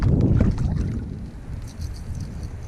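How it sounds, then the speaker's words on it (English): Wind gusting across open water during cold-water bass fishing from a boat in November, a loud rumbling buffet at first that eases into a steady low rush with no talking. "The wind is a little stiffer than I'd like."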